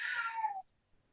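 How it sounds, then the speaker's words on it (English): A pet cat lets out a single loud, drawn-out meow that rises and then falls away, followed by near silence. "my cat is being very loud"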